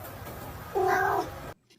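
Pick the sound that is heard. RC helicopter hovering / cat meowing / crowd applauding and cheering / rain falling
cat meowing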